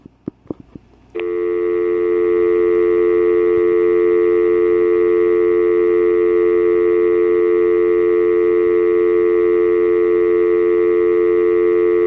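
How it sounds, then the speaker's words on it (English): An AT&T EP5995 telephone gives a few quick clicks and short dialing beeps, then a loud, steady dial tone switches on and hums unbroken, close and clean, until the end. "Can you hear the dial tone perfectly?"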